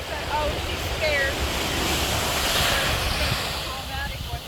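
Ocean waves wash onto a beach in a continuous surging rush mixed with wind buffeting the microphone, with faint voices now and then.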